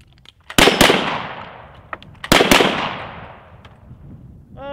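A double-barrel shotgun fires during a cowboy action shooting stage: two pairs of loud, sharp blasts in quick succession, each pair ringing out outdoors, with fainter clicks and handling noise between them.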